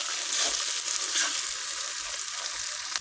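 Onion and ginger paste sautés in a pan with a steady, close frying sizzle and a few scraping stirs of a spatula, with no talking.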